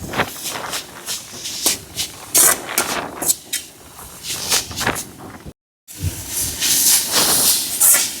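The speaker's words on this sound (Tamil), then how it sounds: "எல்லாம் வெஜிடபிள் எல்லாம் கொஞ்சம் பச்சை வாசனை போகிறதுக்கோசம் நம்ம வதக்குறோம்" Steady sizzling hiss of vegetables and chopped green chillies frying in a hot pan for momos, with intermittent crackles and stirring clatter, briefly cutting out before resuming louder.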